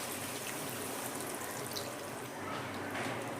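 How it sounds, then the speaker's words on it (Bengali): Water pours steadily into a pan of simmering prawn curry masala, a soft, continuous hiss and splash held at low volume with no talk. "দেখুন আমি আরও হাফ বাটি মতো জল দিলাম।"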